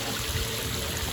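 Water trickles in a garden water feature with a steady, soft, continuous babble that sounds close and gentle, with no other sounds over it.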